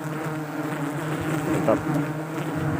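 Wild sialang forest bees drone continuously around their nest high in a tree during a honey harvest, a dense buzzing swarm close by, with a person briefly speaking over it.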